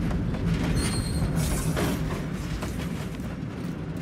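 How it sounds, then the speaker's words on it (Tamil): Train starting to move in the video game Mafia: Definitive Edition, a steady rolling rumble of wheels on rails with occasional faint metallic squeals, continuous and moderately loud with no talking. "ஓகே ட்ரெயின் மூவ் ஆகுது."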